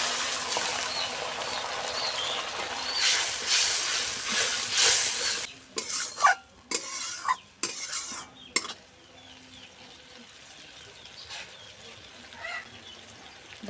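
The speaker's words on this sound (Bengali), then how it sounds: "মশলা কষানোর জন্য একটু সামান্য জল দিয়ে দেব।" Spices sizzle in a pan as a little water is added, a loud hissing burst followed by rapid scraping and clinking strokes of a spoon against the pan, then a quieter low sizzle.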